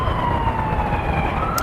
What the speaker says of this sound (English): listen to the fucking sirens